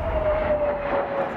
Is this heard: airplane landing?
yes